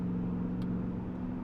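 A Lexus LS400 V8 idles with its exhaust valves open through straight pipes, universal mufflers and a deleted resonator, giving a steady, deep droning hum recorded up close with no voices.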